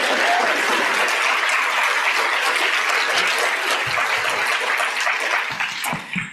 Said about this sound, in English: Let's give her one more round of applause for joining today,